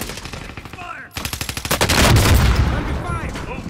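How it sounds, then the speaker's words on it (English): Rapid gunfire and explosive blasts from a grenade launcher in a first-person shooter video game, a quick burst of shots building into a loud, dense boom, with game effects around it. "Look, he hit me with a grenade launcher."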